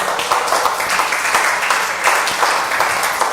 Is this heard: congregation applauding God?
yes